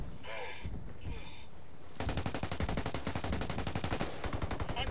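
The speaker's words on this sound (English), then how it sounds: "Under heavy fire." Heavy automatic gunfire in a shooter game erupts after a quieter opening, with rapid, dense bursts of shots repeating in fast succession at close range for several seconds.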